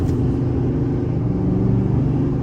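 A 2023 Chevrolet Silverado 3500 High Country dually pickup accelerating on a highway, a loud, steady low engine drone and road rumble heard from inside the cab.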